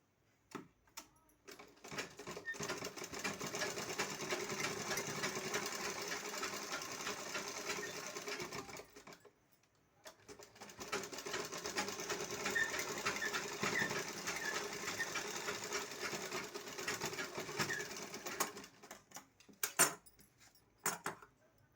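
A sewing machine stitches a seam along the edge of a garment, running in a long steady buzzing stretch, pausing briefly, then running again before stopping with a few clicks; no voices are heard.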